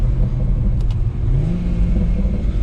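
A BMW M140i engine revs hard and accelerates in manual paddle-shift mode at night, a loud, steady rumble whose pitch climbs briefly midway, heard up close.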